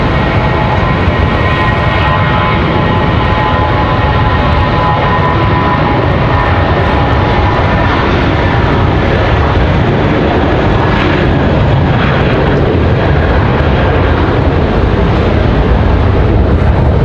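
A United Boeing 737 takes off at Raleigh-Durham International Airport with a loud, continuous broadband jet engine roar that holds steady throughout, heard alone without voices.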